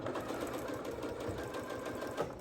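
A sewing machine stitches around the casing of a fabric gift bag, a quiet continuous whirring run with a fast, even needle rhythm and no speech.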